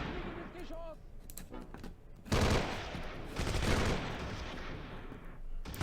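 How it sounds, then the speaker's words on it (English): Gunfire from the wartime strategy game Close Combat: Cross of Iron, with bursts of shooting and sharp impacts over a dense battle din, loud and continuous with a heavy blast near the middle. "Keep firing, keep firing."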